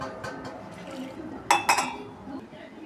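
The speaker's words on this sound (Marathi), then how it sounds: "आता याला मी 2 पाण्यात धुवून भिजत टाकते" Half a kilo of sago pearls being rinsed in water in a metal pot, with soft sloshing and a couple of sharp metallic clinks near the middle, under light background sound.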